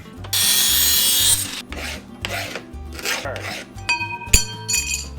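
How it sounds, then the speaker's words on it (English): A metal hand file rasping across an aluminum bracket for a Jeep, loud and close, in a long harsh stroke followed by shorter uneven strokes, ending with a metallic clink. "I don't think this file's made for aluminum."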